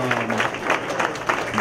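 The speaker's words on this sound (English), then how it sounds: "Clap it up for her." A small audience at a Dick Gregory event gives brief, scattered applause, a short patter of claps over a low hum.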